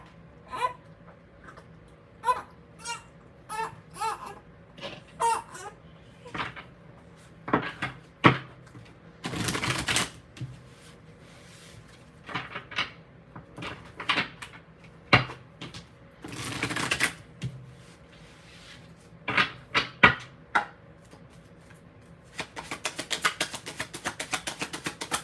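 Tarot cards being shuffled and riffled by hand in a series of quick bursts of flicking and slapping, with short pauses between, ending in a steady rapid riffle; close and fairly loud with no talking.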